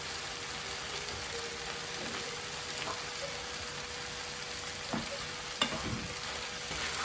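Carrots are stirred into beef patty filling frying in a pan, giving a soft, steady sizzle with a few faint spoon scrapes and taps.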